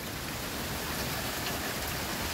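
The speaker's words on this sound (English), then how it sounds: "So much rain. That looks like a waterfall right there." Heavy rain pouring during an Oklahoma thunderstorm, a dense, steady roaring hiss of downpour with no breaks, close and loud, with no voices.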